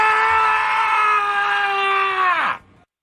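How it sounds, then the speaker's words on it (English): A single sustained guttural scream is held loud and close for about two and a half seconds, then cuts off into a fading drop. "We each took a turn at guttural scream at 6 a.m."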